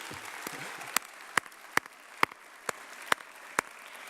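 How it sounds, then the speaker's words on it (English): At a high school graduation ceremony, an audience applauds faintly, with a series of sharp, evenly spaced claps standing out close by, about eight in a few seconds. "give your parents and family a round of applause for always being there"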